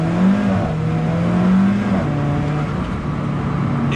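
Alfa Romeo 4C accelerating hard on maximum turbo boost, heard as a loud, steady engine drone with a rising and shifting tone over a few seconds, without talk.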